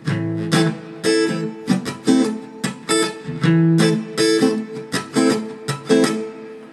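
An acoustic guitar played slowly through the full strumming sequence of a song, with ringing strokes broken up by muted, percussive ones. The pattern is steady and close, and nobody speaks.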